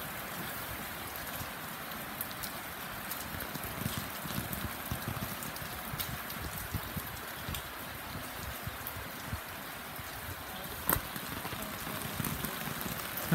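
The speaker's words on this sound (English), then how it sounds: "Also, it's raining." Rain falls steadily outdoors in England, a dense, even hiss of drops striking surfaces that holds for the whole stretch, with a few sharper spatters and a faint knock here and there and no talk.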